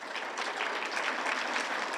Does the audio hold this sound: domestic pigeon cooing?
no